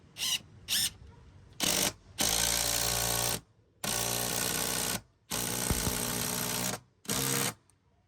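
Impact driver running ledger bolts into a balcony framework built on angle braces, in several loud sustained bursts of a second or so each, with brief pauses and short blips between them.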